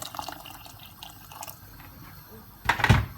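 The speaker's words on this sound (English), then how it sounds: "add a little bit more water to it" Water poured from a tap onto soaking mung lentils in a pot for moong dal, with light drips at first and then a louder, fuller splash of running water near the end.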